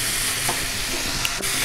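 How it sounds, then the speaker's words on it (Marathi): Sprouted masoor lentils are stirred in a hot spiced tempering, giving a steady close sizzle with soft scraping and stirring throughout, and nobody speaks. "आता चांगली परतून घेतली आहे त्या फोडणीमध्ये"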